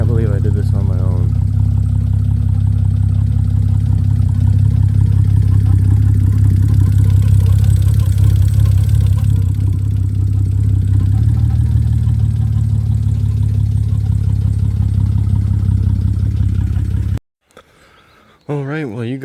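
A flood-damaged BMW E90 325i idles with a steady low engine drone close by, running continuously before cutting out abruptly near the end, while people talk over it.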